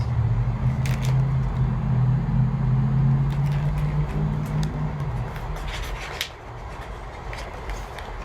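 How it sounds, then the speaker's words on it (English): Deep, steady engine rumble from a fleet of food trucks, loud and continuous, with a low drone that builds and then eases slightly toward the end. "Engines rumble, then start to roar."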